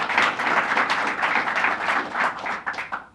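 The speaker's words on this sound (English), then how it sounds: "Let's give her a big round of applause," A crowd at a New York housing financing announcement gives warm applause for a speaker, dense continuous clapping filling the room at moderate loudness with no talk over it.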